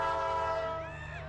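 A horn gives one loud, sustained, tonal blast at a recreational league game, starting strong and then easing off as it holds.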